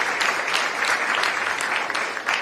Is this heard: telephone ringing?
no